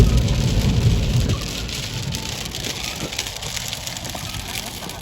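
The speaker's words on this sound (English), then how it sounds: "It sounds like it's dry, but it's raining." Heavy rain with large drops pattering densely on a surface, loud at first and easing slightly, with faint voices underneath.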